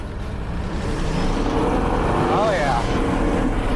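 An abandoned 1976 AMC Pacer engine drones steadily as the car is driven, a loud rumbling run with wind buffeting, and someone speaks briefly over it.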